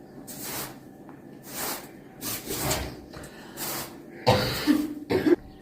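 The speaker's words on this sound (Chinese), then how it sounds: "咳嗽声依然不断" A sick woman coughs over and over, each harsh, breathy cough spaced about a second apart, then a few louder throaty coughs and a throat clearing at the end, close and with no talk.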